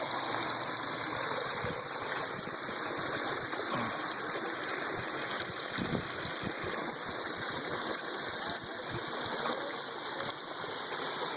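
Small waterfall at Carpenters Dam in Hot Springs, Arkansas, pours in a steady, dense rush of falling water that sounds close and continuous, with no pauses.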